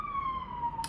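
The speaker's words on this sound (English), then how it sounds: "Okay, that's an ambulance." An ambulance siren passing outside, a steady sustained wail that glides slowly downward in pitch, heard distantly in the background of an indoor room and ending with a short click.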